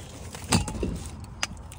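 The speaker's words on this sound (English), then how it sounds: "All right, so I've got the keys." A set of Land Rover keys jangles close by in a short metallic rattle, followed a moment later by a single sharp clink.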